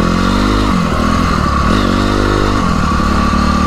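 A dirt bike on a trail ride runs at light throttle, its engine a loud, close, continuous whining drone whose pitch dips and climbs again over a few seconds.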